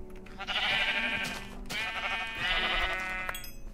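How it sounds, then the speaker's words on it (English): Sheep in the video game Minecraft bleat in two long, loud, wavering calls close by, one after the other, with no talk over them. "Sheep, where are you?"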